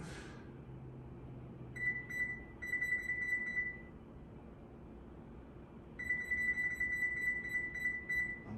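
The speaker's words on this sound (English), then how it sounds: "now we're gonna set our timer for 90 minutes." An oven timer being set to 90 minutes while potatoes are confited gives out two runs of quick, close electronic beeps, separated by a short pause, over faint kitchen hum.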